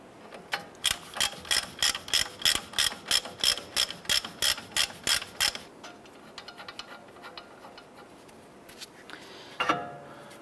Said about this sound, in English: Let's go ahead and remove this upper nut here.